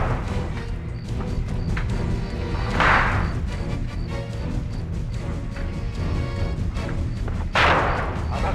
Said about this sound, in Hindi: आधा घंटा हो गया, फायरिंग रुकने का नाम ही नहीं ले रही।